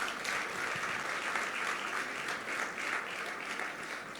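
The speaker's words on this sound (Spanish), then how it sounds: "De ese aplauso de alabanza al Señor." A church congregation claps steadily in praise to the Lord, a dense, sustained wash of applause from many hands that holds even across the whole stretch without voices.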